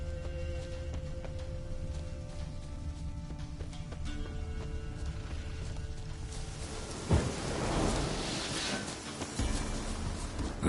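Rain patters steadily in the world of The Witcher 3 while a low roll of thunder swells in the latter half, a soft continuous backdrop with no talking.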